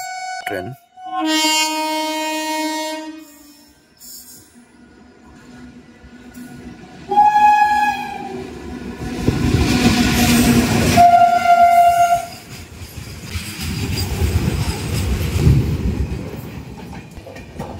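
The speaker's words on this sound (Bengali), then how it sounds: "এবার কিন্তু আসছে মাল ট্রেন।" A goods train on the Konkan railway sounds a loud, drawn-out horn with several blasts, then rolls past with a heavy, rising rumble and rattling wagons that fill the rest of the stretch.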